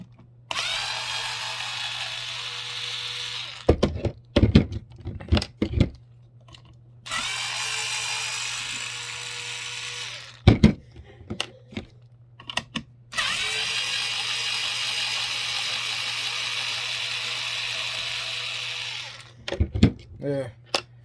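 Power screwdriver or drill backing screws out of a Thumper Mini Pro 2 massager during disassembly, three long whirring bursts with brief clicks and handling noises between them, close up, with talk in the gaps.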